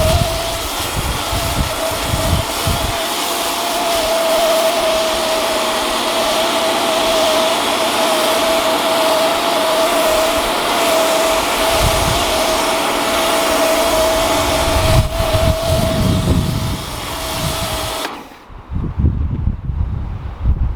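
Steady motorized whine of a Kärcher pressure washer with a snow cannon attachment, a sustained tone running loud for about eighteen seconds amid gusty wind rumble, then cutting off, leaving wind buffeting the microphone.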